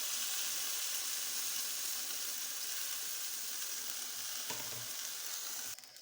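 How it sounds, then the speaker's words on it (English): A pot of goat meat stew hisses and sizzles steadily as broth goes in, a dense close bubbling rush that carries on evenly with a brief clatter near the end. "Now we bring our broth and add to the stew."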